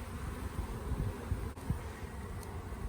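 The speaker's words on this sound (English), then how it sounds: "Look at all those bees just flying around Tyler over there." Bees fly around on a mountain trail in Utah, a faint, continuous low buzzing drone with occasional nearer passes, carried under a soft outdoor hiss and heard without talk.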